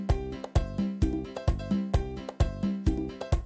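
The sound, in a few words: merengue rhythm played on a Yamaha PSR keyboard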